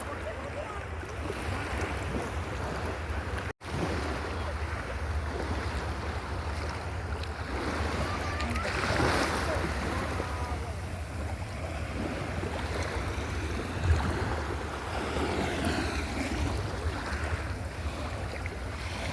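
Sea waves wash and roar continuously nearby, mixed with wind noise, with a brief dropout near the start and a swell of surf midway.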